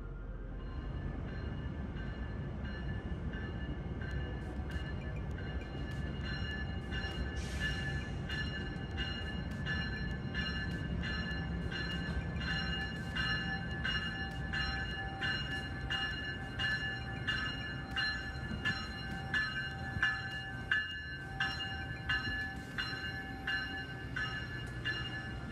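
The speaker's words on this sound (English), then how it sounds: "The two ACS-64s creep up to the Carolinian, coupling on with a satisfying clunk." Two Amtrak ACS-64 electric locomotives creep up to a passenger train and couple on, under a steady low rumble and hum, with a bell ringing repeatedly and metallic clunks.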